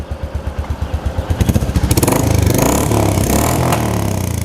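A Royal Enfield Classic 350 with a Lowell slip-on exhaust and baffle plug fitted putters at idle, then revs up sharply into a loud, sustained roar that holds steady for several seconds.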